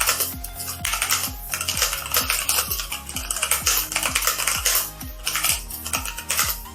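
Typing on a CosmicBytes Black Eye mechanical keyboard with Outemu Brown switches gives a quick, close run of clacking keystrokes in an uneven rhythm, with each press ringing briefly and no one talking.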